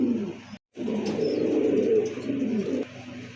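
A large Lahori pigeon gives deep, rolling coos, close and fairly loud, with one brief break before a longer burst that tapers off.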